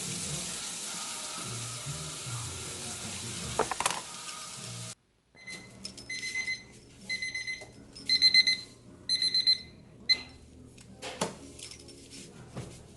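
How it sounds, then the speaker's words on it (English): Kitchen timer beeping in a home kitchen while Salisbury steak simmers: after running tap water, several bursts of rapid high-pitched electronic beeps at regular intervals, close and clear. "A little timer."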